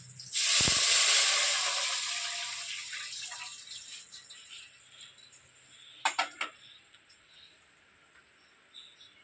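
Water poured onto hot semolina in a pan: a sudden loud hissing burst of steam that slowly fades over a few seconds, followed by a few sharp clinks of a utensil and a quiet tail.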